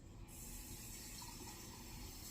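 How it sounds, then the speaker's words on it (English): Water runs from a kitchen tap in a steady, dense, close rush that starts abruptly and continues without pause, with no voices. "So let me get some water from my tap"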